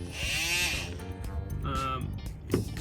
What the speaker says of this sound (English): we had a sander, so I just sanded it off